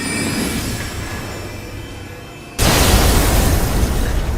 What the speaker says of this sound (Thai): ต้องระเบิดแรงด้วย